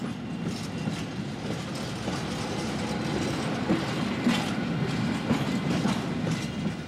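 A 1941 deportation train rolls along its rails toward Łódź, a dense, steady low rumble with a faint rhythmic clatter of wheels over track joints, heard alone throughout.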